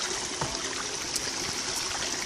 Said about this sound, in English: And then there's like a small river over here.